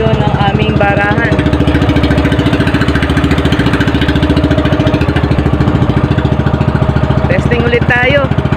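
The engine of a small fishing boat runs loud and steady with a throbbing, knocking beat as the boat heads out to sea, while someone talks over it.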